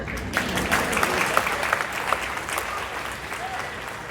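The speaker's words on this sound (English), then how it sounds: "Yeah, you can clap for that." An audience at a high school graduation ceremony applauds, with steady, dense clapping throughout that holds at a fairly even level before easing slightly near the end.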